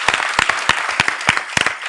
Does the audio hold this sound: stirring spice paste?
no